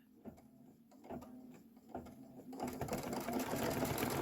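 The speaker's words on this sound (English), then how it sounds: "Just go ahead and hit start and let it do the quilting." An embroidery machine quilting a Kimberbell pickup truck design, with rapid rhythmic needle stitching that starts in short bursts and then settles into a louder continuous mechanical whir, heard close with no talk.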